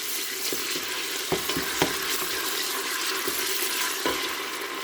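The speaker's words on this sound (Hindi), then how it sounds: "ये 1 टीस्पून फुल भर के अदरक लहसुन का पेस्ट डाल दिया है। तो इसको थोड़ा सा फ्राई कर लेते हैं।" A teaspoon of ginger-garlic paste fries in hot oil in a pan for a bottle gourd sabzi, giving off a steady, close sizzle broken by small pops and scraping stirs.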